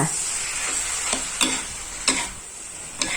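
Water spinach with dried chili stir-fries in a hot pan, a constant close sizzle punctuated by four or five sharp spatula scrapes and clacks at roughly even intervals.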